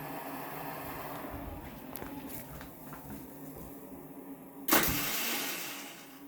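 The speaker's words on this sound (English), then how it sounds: "This is the one downside I've noticed with these TPIs, is the cold starting." A 2020 KTM 300xc TPI enduro bike fitted with a Pro Circuit Type 296 spark arrester muffler, struggling through a cold start: low rumble and faint clicks, then a loud sudden burst as the engine catches and fades over a second.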